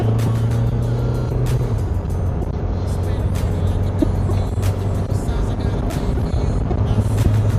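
Isuzu Mu-X 2023 with a six-speed racing gearbox built for full horsepower runs steadily under load, a loud continuous engine drone with a gear change early on and sustained pulling throughout.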